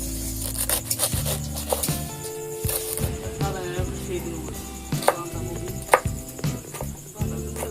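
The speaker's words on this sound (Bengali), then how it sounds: "বাঁধাকপি কেটে নেব" Cabbage being chopped with a knife on a board, giving a run of repeated close cuts and scrapes of uneven rhythm, with scattered kitchen clatter.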